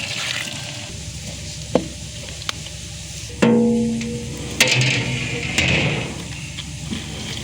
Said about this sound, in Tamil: மசாலா தண்ணி ஊற்றிக்கலாம்.